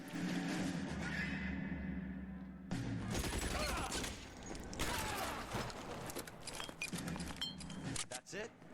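Gunfire in the video game L.A. Noire, a sustained burst of shots and metallic clatter over steady game ambience, with a voice talking over part of it.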